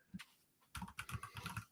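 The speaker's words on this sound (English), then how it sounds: "Pardon my typing." Typing on a computer keyboard, a quick burst of close clicks and clacks after a pair of isolated taps, uneven in rhythm and fairly soft.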